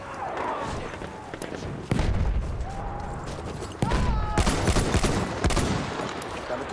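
Battlefield 1 combat with bursts of gunfire near and far, sharp shots punching in at intervals over a continuous din of battle, a couple of whistling tones cutting through, and no clear talk.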